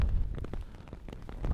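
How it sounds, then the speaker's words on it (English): Rain falling in the Sahara desert during a cold survival outing, heard as close, steady pattering with scattered heavier drops and low rumbling gusts throughout. "I'd rather it wasn't raining at all"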